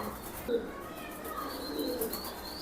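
Racing pigeons cooing in a loft, soft low coos and a few faint chirps at moderate distance over a quiet background, with no talk.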